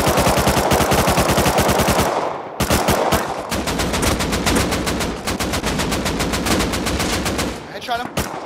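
Rapid, loud machine-gun bursts of gunfire in the survival video game Rust, shooting at enemies from a roof, with long sustained volleys, brief pauses and a faint voice at the end.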